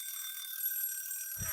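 An electronic timer alarm rings with steady high, tonal beeping that holds through the whole clip, close and fairly loud, with a low thump near the end.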